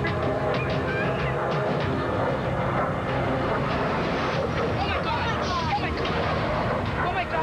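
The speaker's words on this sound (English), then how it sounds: "lifts his vintage Sabre jet into the skies." Vintage Sabre jet flying at an air show, a continuous roaring engine rumble over crowd noise, with people talking and honking calls mixed in across the scene.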